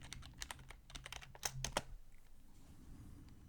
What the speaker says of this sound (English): Just type it out in capitals.